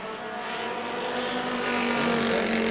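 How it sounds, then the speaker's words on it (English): Race car number 22 at New Smyrna runs rough with motor problems, its engine a steady droning roar that slowly swells as it passes on the track, with no talking. "Doesn't sound too good though. Car number 22. Motor problems here."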